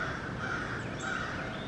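Crows cawing outdoors under cloudy skies after rain, a steady bed of calls at moderate distance with no voices over them.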